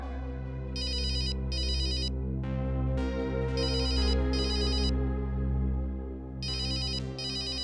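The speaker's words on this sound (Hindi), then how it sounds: "तेरा फोन है।" A phone ringtone plays steadily, a repeating melodic tune with bright trilling bursts in a regular pattern, loud and clear, no one speaking.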